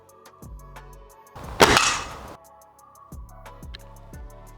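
A single sharp, loud shot from a Magtech N2 Extreme spring-piston air rifle bursts out amid a quiet ticking background, followed by a short decaying rattle.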